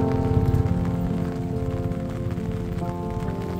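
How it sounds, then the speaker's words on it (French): Steady rain falls throughout on a mountain pass at the French–Italian border, a dense continuous patter with a low rumble beneath it, fairly loud and without pauses. "On y arrive sous la pluie."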